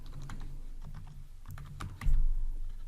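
Code being typed on a computer keyboard, with a steady run of quiet, close key clicks over low background hum, ending in a slightly louder burst of keystrokes.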